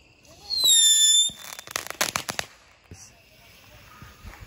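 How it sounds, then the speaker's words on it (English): Fourth of July fireworks whistle up and then burst in a rapid string of loud crackling bangs, with a few scattered pops trailing off afterward. "All right, we're starting fireworks now."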